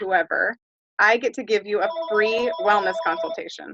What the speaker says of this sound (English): Sorry about the phone ringing, one sec.